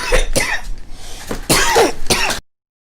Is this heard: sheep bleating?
no